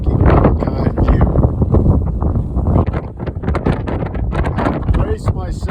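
Strong, gusty wind at the Pikes Peak summit visitor center roars steadily into the microphone, loud and close throughout, with a person talking under the buffeting.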